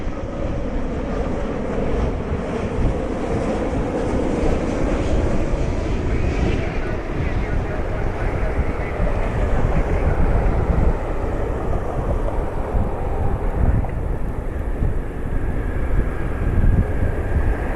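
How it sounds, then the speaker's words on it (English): A LOT Polish Airlines Boeing 787-9 Dreamliner arriving at Cleveland Hopkins in severe weather, a broad, distant engine rumble blending with heavy wind noise and low buffeting. "It's a 787-9 Dreamliner."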